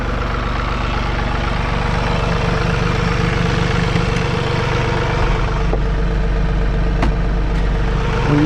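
A John Deere 3046R cab tractor runs with its PTO engaged to drive a winch, a loud, steady, close engine drone with a constant low hum throughout.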